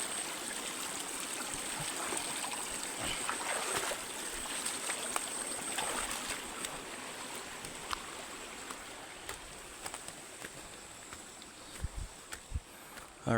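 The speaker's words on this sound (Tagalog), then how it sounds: "Mga sapa din dito na may isda, oh." Water in a small stream flowing with fish, a continuous close babbling rush with light splashes and trickles, steady throughout with a few sharper knocks near the end.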